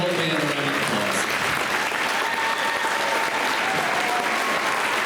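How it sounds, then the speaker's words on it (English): A school concert audience applauds a 6th grade band after its winter concert, steady dense clapping from a full hall with a few cheers and voices mixed in, holding at an even level throughout. "Give the whole band a round of applause."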